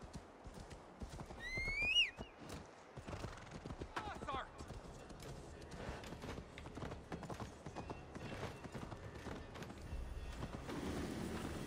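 A horse in Assassin's Creed Valhalla gives a sharp rising whinny early on, then its hooves clop in a steady galloping rhythm amid game music and ambience, while someone talks over it.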